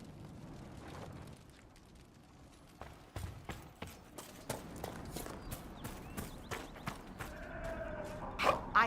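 A horse in the Dragon Age: Inquisition video game clip-clops at a steady walking pace, its hoofbeats growing clearer and more regular, with low rumbling game ambience underneath.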